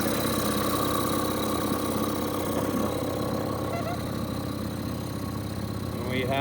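A boat tender's outboard motor drones continuously at close range, a constant mechanical rumble with faint voices mixed in beneath it.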